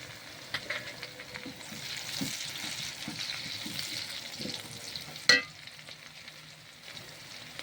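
Whole spices, bay leaf, cinnamon and cloves, fry in hot oil with a soft, steady sizzle and light stirring taps, then a sharp clatter midway before the quiet frying continues.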